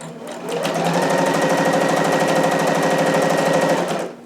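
A home sewing machine stitching a seam on a McCall's 7402 harem jumpsuit runs in a steady, fast, loud mechanical rattle for about four seconds, starting and stopping cleanly, with no voices.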